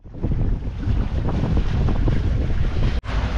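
Steady wind blows across the microphone aboard a sailboat under way, a loud continuous rushing roar with water noise beneath, broken by one brief dropout near the end.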